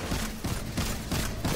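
Rapid gunfire in Destiny 2 pulses in a steady rhythm of repeated bursts, dense and sustained throughout, with no talking over it.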